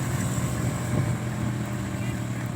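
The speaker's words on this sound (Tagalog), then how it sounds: "Tricycle." A motorized tricycle putters past on a rural road during a mountain picnic outing, its steady engine drone running close and continuous with wind buffeting the microphone and voices faintly underneath.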